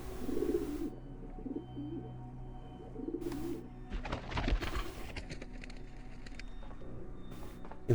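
Simulated pigeons coo softly in The Talos Principle, with low burbling calls over a steady ambient hum and a few brief louder rustles and clatters partway through.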